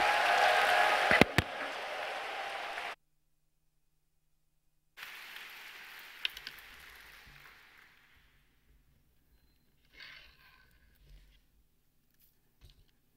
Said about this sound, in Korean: 우리 큰 소리로 함성과 박수로 환영하도록 하겠습니다